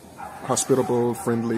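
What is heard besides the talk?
dogs barking in Mexico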